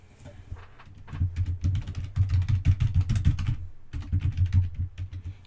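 Steady, fast typing on a computer keyboard in US layout, dense clicks in continuous bursts with a brief pause midway, close and clear with no talk.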